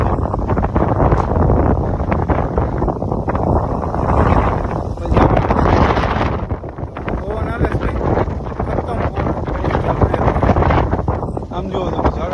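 Strong wind sweeping across a hilltop near a forest hut, roaring steadily into the microphone for the whole stretch while someone talks over it.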